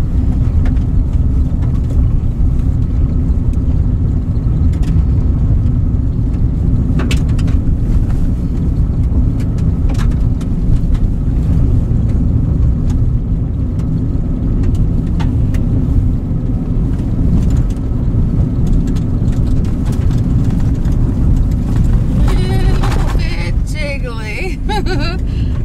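A car drives along a coastal road on a southern coast route, giving a loud, constant rumble of engine and tire noise throughout with a few faint clicks and knocks near the end.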